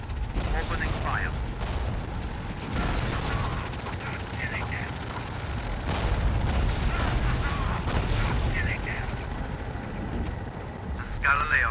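Artillery and gunfire from the war video game EndWar rumble as constant low booms and distant blasts, with brief radio-style voices over the dense battle noise.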